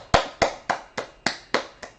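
Seven sharp hand claps in a steady, evenly spaced rhythm, close and clear, with no voices.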